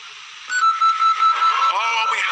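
A steady electronic start buzzer tone at a climbing competition in South Korea sounds once and holds for about a second and a half over crowd murmur.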